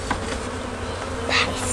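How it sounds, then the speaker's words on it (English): Honey bees hum in a steady, dense drone around an open hive while frames are handled, the buzz close and continuous with a brief louder swell near the end. "We have had these bees."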